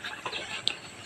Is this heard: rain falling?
no